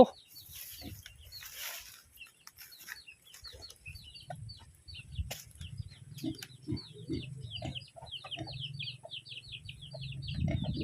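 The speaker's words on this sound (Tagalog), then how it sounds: "O mga manok." Chickens cluck and squawk in short bursts on a farm, with small birds chirping in the background and rustling noises nearby.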